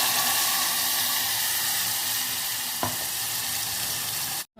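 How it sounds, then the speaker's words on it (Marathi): Ground masala paste hits hot tempering oil with asafoetida and slit green chillies, setting off a loud, steady close-up sizzle, with one brief clunk of a utensil before it cuts off abruptly. "त्याच्यात आपण हे वाटलेलं वाटण टाकून घेऊया"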